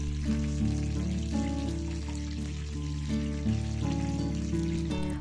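Hot fat sizzling steadily in a pan on the stove after chicken pieces are lifted out while making chicken shkmeruli in cream sauce; a continuous close hiss with a steady tonal hum layered over it.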